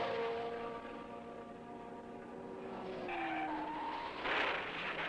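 A race car at speed with A.J. Foyt's car skidding toward the wall, sliding engine tones and tire squeal that swell near the end, with no clear impact standing out.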